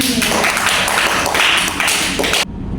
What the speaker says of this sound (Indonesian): Kita beri aplaus untuk Doni.